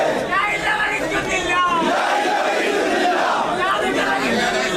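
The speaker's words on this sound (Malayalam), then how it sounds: "ആൾക്കൂട്ടം ചുറ്റും നിന്ന് മുദ്രാവാക്യം വിളിക്കുന്നത്" A large crowd gathered to see V.S. Achuthanandan's body shouts slogans together in rising and falling waves, loud and continuous, with many voices blending.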